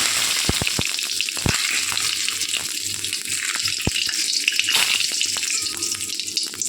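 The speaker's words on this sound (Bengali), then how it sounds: "কড়াইতে তেল দিয়ে আমি গরম বসিয়ে দিয়েছি এবার একটু জিরে আমি এর মধ্যে দিয়ে দেবো" Cumin seeds hit hot oil in a kadai, crackling with sharp scattered pops over a continuous close sizzle that carries on steadily throughout.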